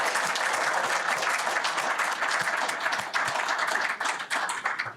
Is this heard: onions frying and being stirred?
no